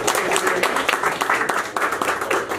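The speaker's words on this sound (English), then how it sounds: "A round of applause for Mr." A round of dense applause from diners at a South African wine lunch in a Los Angeles restaurant, with many hands clapping steadily and fairly loudly throughout.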